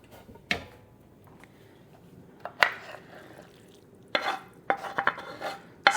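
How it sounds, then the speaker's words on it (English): Meat sauce for homemade lasagna spooned into a lasagna pan: scattered clinks, scrapes and soft knocks of a spoon against the pan in short irregular bursts, fairly close, with no talking. "So the rest of the meat goes in this one"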